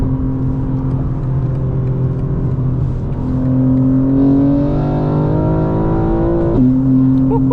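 A 2025 BMW M4 Competition xDrive drives over an uneven, ridged road surface, its engine droning steadily up close with rising and falling pitch as it accelerates, and a brief shift-like dip near the end.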